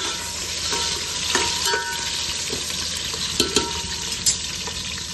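Two onions and green chillies fry in a pan for a home-cooked chicken biryani, giving a steady sizzle with a few sharp stirring scrapes and clinks.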